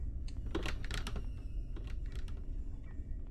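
Computer keyboard typing during a Granny horror game session, heard as a rapid, steady run of close plastic key clicks with no voices.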